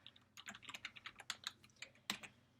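Quick bursts of typing on a computer keyboard, close and fairly quiet, with uneven clusters of key clicks over a few seconds.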